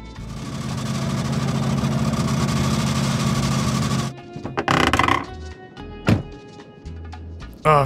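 A car passes by in a Minecraft-style game world, heard as a steady engine drone that runs for several seconds, then cuts off and gives way to scattered knocks and thumps.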